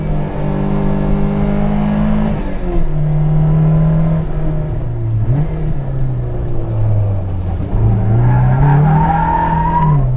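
A Toyota AE86 with a swapped Honda F20C engine revs hard and loud up close, its pitch climbing and dropping repeatedly as it works through the gears, with no talking.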